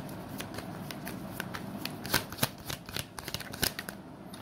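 Tarot cards being shuffled close by, a run of soft papery riffles and flicks with a few sharper snaps, steady and unhurried with no talking.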